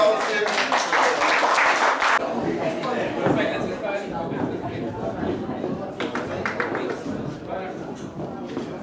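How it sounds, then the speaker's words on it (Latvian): Audience applause at a graduation ceremony held in a church, a burst of dense clapping at the start that thins into scattered claps, under people talking and chattering nearby. "Paldies, aplausiem."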